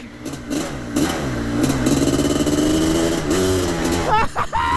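A 700cc two-stroke dirt bike engine revs hard and close, its pitch rising and falling through sustained throttle before a few sharp blips at the end.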